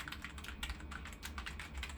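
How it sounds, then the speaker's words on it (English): Typing on a PowerPC iMac keyboard, a quiet, quick run of irregular key clicks heard up close with no voices. "You can hear the typing going on."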